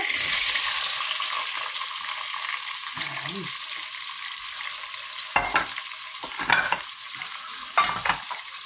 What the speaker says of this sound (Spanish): Ahora en el mismo aceite, por supuesto, pondremos la cebolla.